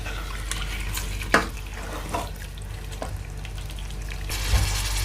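One kilogram of chicken cooking in spiced masala for biryani, a close, continuous sizzle broken by a few sharp clacks and stirring knocks against the pot, with no talking.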